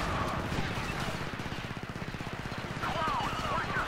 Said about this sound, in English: It's a little mini gun, a little Gatling gun.